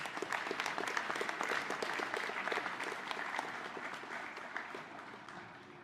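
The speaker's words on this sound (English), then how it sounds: "you certainly deserve a round of applause" An audience at a high school Hall of Fame ceremony applauds Pete and Amanda, a dense round of clapping that swells early and then gradually tapers off, fairly soft and heard alone.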